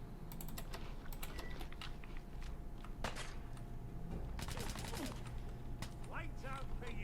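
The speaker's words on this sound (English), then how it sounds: "somebody's using an automatic 10mm pistol" Rapid automatic 10mm pistol fire in Fallout 4 survival mode, clustered bursts of sharp cracks in several short volleys over constant background game ambience, with a voice talking at times.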